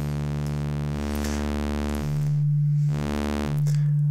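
Analog oscillator in the Thor synthesizer, slowly amplitude-modulated, gives a low, steady synth tone that swells and dips in a regular pulsing rhythm about once a second, loud and alone.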